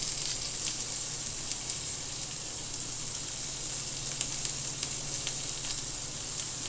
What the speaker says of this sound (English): when it's touching the grill, you hear that sizzling sound